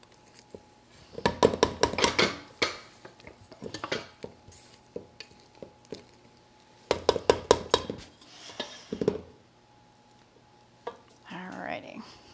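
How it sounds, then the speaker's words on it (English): A spatula scrapes around a mixing bowl of cheesecake batter in several bursts of scraping and clinking, separated by quieter pauses, with a voice speaking briefly near the end. "scrape the bowl down now before I add the last 2 ingredients to make sure that everything is combined"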